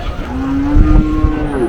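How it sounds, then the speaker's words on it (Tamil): A young native Kangayam calf at the Kundadam cow market gives one loud, close, drawn-out moo that rises slightly and holds steady, with faint market noise underneath. "இதெல்லாம் பாருங்க, நாட்டு காங்கை கண்ணு"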